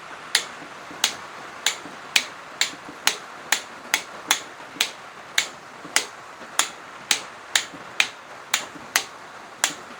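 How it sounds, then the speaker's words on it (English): Torque wrench clicking as it tightens bolts to 52 Nm on a Honda D17A2 high-compression short block, about twenty sharp, evenly spaced clicks in a steady rhythm, close and clear with no talking. "So now it's torqued to spec."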